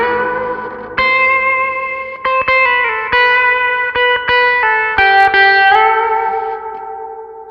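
Sustained electric guitar notes and chords ring out with a lush reverb tail from the Deplike app, sharp picked attacks punctuating the smooth, echoing tones.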